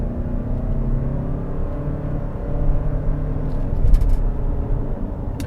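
A 2020 Toyota RAV4 Hybrid in sport mode accelerates at full throttle, giving a steady low engine and road rumble that swells slightly midway, with a brief louder bump near the end.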